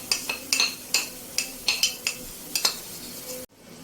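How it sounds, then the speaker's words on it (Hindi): Chopped onions frying in a pot with garlic and ginger paste for a mutton pulao, with sharp metal spoon scrapes and clinks against the pan over a low sizzle, repeated every half second or so before a sudden stop. "प्याज को हम पहले फ्राई कर लेते हैं अच्छे तरीके से"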